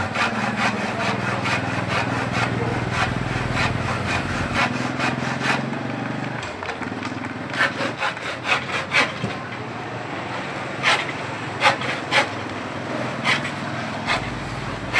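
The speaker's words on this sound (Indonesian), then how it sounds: "karena saya menggunakan gergaji pembelah, jadi untuk memotong agak sedikit lama teman-teman" A hand rip saw rasps through wood in steady back-and-forth strokes, close and loud, the strokes turning sharper and more spaced toward the end.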